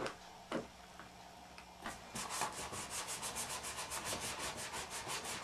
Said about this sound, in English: I'm going to take some sandpaper and distress this and rough it up